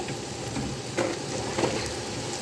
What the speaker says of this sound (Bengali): এটাকে এখন নাড়াচাড়া করবো আর এটাতে এখন দিয়ে দিব লবণ আর হলুদ